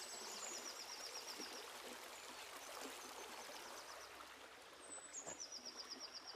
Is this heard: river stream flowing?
yes